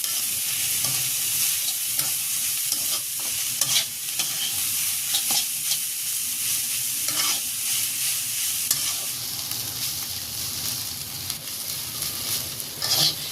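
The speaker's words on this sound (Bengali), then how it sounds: "শাকগুলো একটু ভালো করে ভেজে নেব" Boiled stem amaranth greens fry in a pan with steady sizzling and frequent scraping stir strokes, close and continuous throughout, with no talking.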